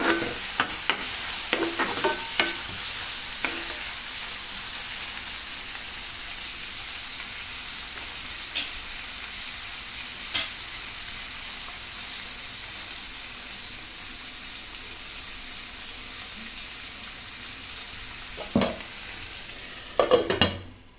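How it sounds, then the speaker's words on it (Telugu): Onions and green chillies fry in a pan with a steady close sizzle throughout, broken by occasional stirring scrapes and a few sharper clatters toward the end. "ఇలా ఆనియన్స్ గోల్డెన్ బ్రౌన్ కలర్ వచ్చే వరకు ఫ్రై చేసుకోవాలి."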